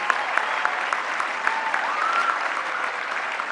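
A crowd applauds continuously, a dense patter of many hands clapping at a steady level, with a faint voice or whistle briefly rising above.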